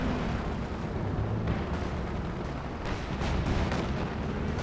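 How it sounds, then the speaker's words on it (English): Katyusha rocket artillery barrage in Company of Heroes 2, a loud, continuous roar of overlapping launches and explosions with repeated bursts rumbling throughout. "The Katyusha barrage."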